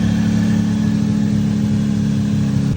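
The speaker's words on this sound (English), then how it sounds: "I just made the car idle for about 20-25 minutes" A Toyota Supra engine idles nearby with a loud, steady low rumble and an even mechanical hum throughout.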